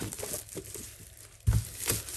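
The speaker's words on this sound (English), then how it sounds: "If I can get this one open." A Stampin' Up! catalog order package is opened, with close crinkling and rustling of plastic and paper in short bursts and one louder crackle partway through, with no talking.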